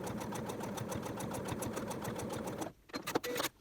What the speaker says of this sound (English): you will take the other seam allowance and fold it over toward the back and stitch it down